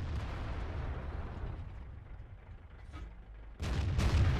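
Tank cannon fire in a video game, a deep rumbling blast that bursts in suddenly and loudly near the end after a low, steady background rumble, with no talk.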